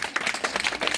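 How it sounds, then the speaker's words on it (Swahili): Applause fills the air with dense, uneven clapping from a gathered group, cheering a woman at a family celebration where a grandmother is handed the keys to her new house. "Makofi kwa ule mama aliyepiga block hapa usiku"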